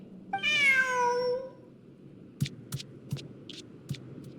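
A cat in Genshin Impact meows once, a long, bright, wavering call, followed by a few soft, scattered taps and thumps.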